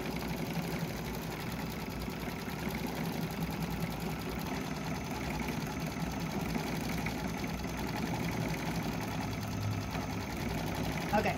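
An embroidery sewing machine stitches icing detail onto a gingerbread man design, its steady mechanical whir and rapid needle chatter running continuously at close range throughout.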